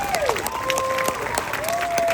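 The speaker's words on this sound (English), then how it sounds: "Give her a round of applause" Audience applause at an event at Hotel Moon Palace Cancún, continuous clapping with some crowd cheering and a few whistles rising over it.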